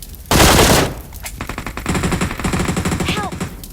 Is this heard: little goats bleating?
no